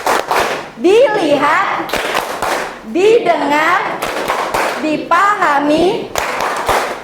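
A classroom group claps out the rhythmic 'tepuk fokus' routine: short bursts of sharp, loud clapping at regular intervals, alternating with voices chanting together in between.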